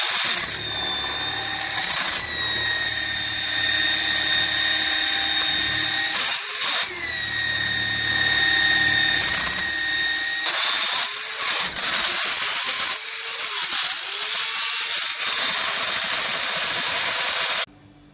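Electric hand mixer beating two-colour cake batter in a bowl, a steady close whine with brief pauses and pitch shifts as it runs, cutting off at the end.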